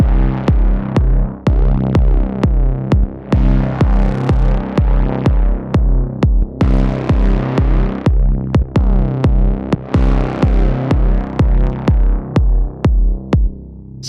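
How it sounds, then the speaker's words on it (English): A heavily distorted U-He Diva synth patch plays a loud, thick, buzzing sequence of repeated rhythmic notes with sharp attacks, dense and continuous for the whole stretch with no voices. "And now you can really hear this fat distortion here."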